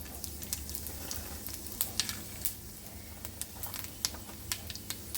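Cumin seeds and curry leaves sizzle in a spoonful of hot ghee in a pan. The frying hiss is steady and close, broken by sharp crackles and pops that come every so often, with no voice.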